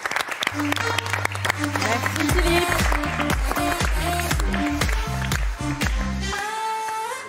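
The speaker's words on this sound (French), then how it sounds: "Alors on applaudit" Studio audience applause on a live French television show, continuous clapping running under loud music with a brief spoken thanks.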